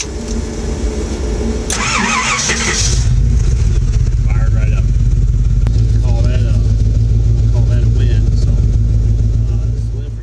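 Small block Ford engine cranks on a mini high torque gear reduction starter, then catches and settles into a loud, steady idle that runs to the end, with a voice briefly heard in the background.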